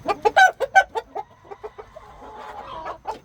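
Rooster of a Cornish Cross and American Bresse mix clucking in a quick series of sharp, nearby calls that trail off into softer clucks.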